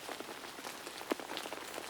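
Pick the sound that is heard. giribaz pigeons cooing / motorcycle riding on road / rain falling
rain falling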